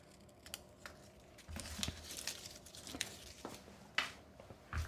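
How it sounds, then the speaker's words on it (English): Scissors snip Velcro hook pieces in a craft setting, making a few quiet, irregular crisp cuts and small rustles over several seconds with no talk. "I'm just gonna cut off 2 of the hook pieces."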